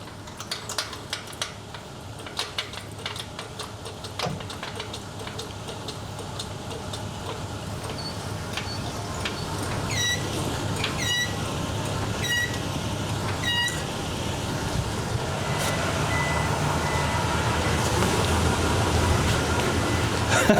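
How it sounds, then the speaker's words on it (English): A third-generation Toyota Tacoma pickup idles while jacked up with its locker engaged, giving a steady low engine drone that builds slightly toward the end, with a few faint high chirps partway through and no talking. "So I've got the locker on still. I got the truck running."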